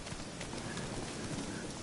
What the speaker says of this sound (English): Is Black Beauty the name of that horse?